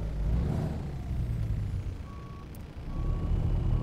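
A Kenworth W900A truck engine in American Truck Simulator rumbles at a low, steady idle, fairly quiet, with a couple of faint high beeping tones over the top.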